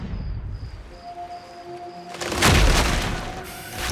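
A deep, booming cartoon explosion blast erupts after a stretch of quieter background tones, rumbling loudly for about a second before fading into noisy hiss.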